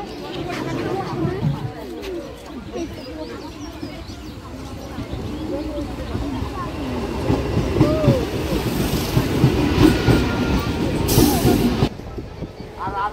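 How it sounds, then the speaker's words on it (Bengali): A train arriving at Ranaghat station on a damp, drizzly morning, a continuous rumble with rattling and squealing swelling toward the end, heard close by with voices and birds in the background. "ট্রেন ঢুকছে এখন রানাঘাটে"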